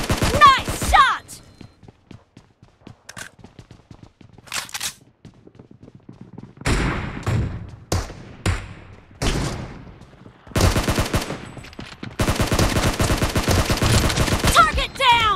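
Gunfire in a team deathmatch video game comes in sharp single shots and rapid bursts, sparse at first and then denser, ending in sustained automatic fire.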